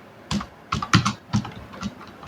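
Fingers tap a computer keyboard while a tech event flyer is designed in Photoshop, a short burst of about seven crisp, close keystrokes in an uneven rhythm.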